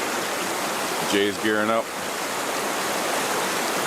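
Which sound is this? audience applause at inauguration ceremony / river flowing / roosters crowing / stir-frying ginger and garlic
river flowing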